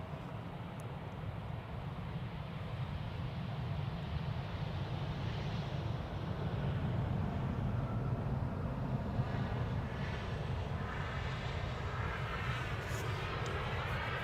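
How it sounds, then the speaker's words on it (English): A Saudia Cargo Boeing 747-400 arriving at Amsterdam Schiphol Airport gives a distant, steady jet-engine roar that swells slightly and holds for several seconds, faint and without voices. "It is Saudia Cargo flight 933. It's a 747-400 arriving from Jeddah."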